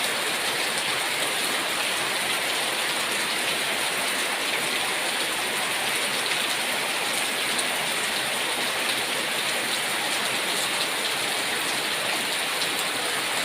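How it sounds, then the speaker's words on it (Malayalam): Heavy rain pours down in a dense, steady hiss that stays even and unbroken throughout, with no voices. "അടിപൊളി മഴ, അടിപൊളി മഴ, അടിപൊളി മഴ."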